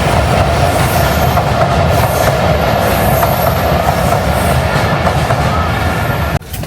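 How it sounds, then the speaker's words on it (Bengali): A train runs past just behind a house, a loud, steady close rumble with rolling wheel clatter that fills the whole stretch before cutting off abruptly near the end. "আমার ছেলে এই বাসার পেছন থেকে ট্রেন যায়"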